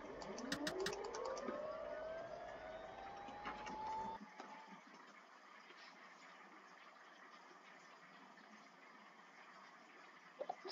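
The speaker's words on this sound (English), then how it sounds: "Is that engine starting up?" A simulated aircraft engine starting up in the X-Plane 11 flight simulator, a rising whine that climbs in pitch over several seconds before settling into a steady hum, with a few clicks near the start.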